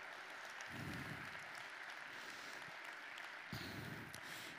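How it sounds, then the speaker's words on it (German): A congress audience at the Europa-Park venue in Rust claps in thanks at the end of the first day; the applause is faint and distant, a soft even patter with no voices over it. "Es gibt jetzt noch einmal einen kräftigen Applaus an alle, die den ersten Tag möglich gemacht haben."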